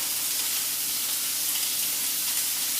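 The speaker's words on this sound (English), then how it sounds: "So you just need to make sure you've got a nice sizzling pan." Beef searing in a hot pan, a steady, close, even sizzle of frying that holds unbroken throughout with no talk.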